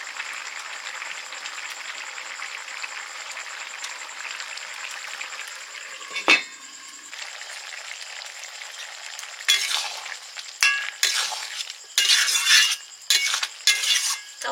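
Chickpea curry sizzles steadily in a pan, then a sharp metallic clink sounds and short bursts of frying and scraping follow as a utensil stirs the mix, close and fairly quiet.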